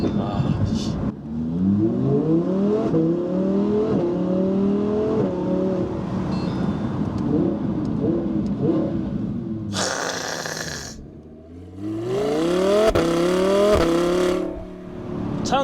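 Custom variable exhaust on an Audi R8 4S with a dual-clutch gearbox, revving loudly and close, with rising and falling engine sweeps, a sharp high blip and further climbing revs, while someone talks over parts of it.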